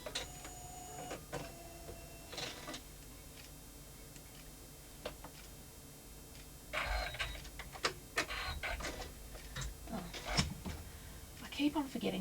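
A home embroidery machine stitches an in-the-hoop small wallet, giving a quiet, steady ticking and whirring pattern with occasional louder bursts and clicks, and a voice talks over parts of it.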